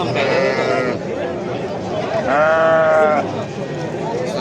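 Hissar sheep bleat loudly nearby at a livestock market, two drawn-out wavering calls with a pause between, over steady background noise.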